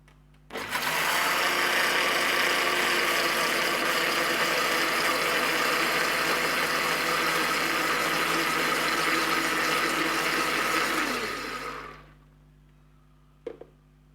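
An electric blender grinds egg and oil into homemade mayonnaise, a loud steady motor whine running for about eleven seconds before cutting off abruptly, followed by a short knock.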